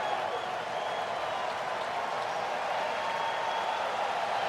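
A baseball stadium crowd at an Atlanta Braves home game against the Detroit Tigers keeps up a steady, distant roar of cheering and applause, an even wash of noise throughout.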